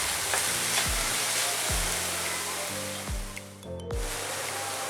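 Momo filling vegetables frying lightly in a pan, a steady sizzle running throughout with a few soft clinks of a spoon against the pan.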